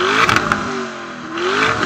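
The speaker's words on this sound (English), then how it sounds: "Lamborghini sounds incredible." A Lamborghini Urus engine revs loudly with a rising and falling growl, punctuated by a few sharp crackles and clattering pops across the short burst.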